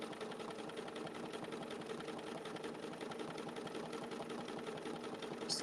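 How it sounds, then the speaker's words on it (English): A sewing machine stitching a garden-themed quilt runs in a steady, fast mechanical whir with a rapid needle rhythm, quiet and continuous throughout with no talk. "I'm going to stitch all the way down, come across."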